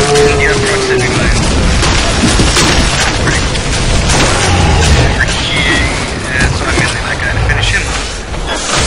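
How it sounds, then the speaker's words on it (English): A rivet gun fires during combat in Bioshock 2, set in the Medical Pavilion, amid loud, continuous, chaotic game noise of booms, crashes and metallic clatter, with muffled voices mixed in throughout. "let's kill some things with the ribbon gun, which is a three-hit kill"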